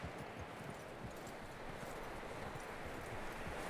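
Horse hooves clip-clopping in the Red Dead Redemption video game: a steady, fast, soft patter of hoofbeats under a constant broadband wash of background noise, faint and continuous.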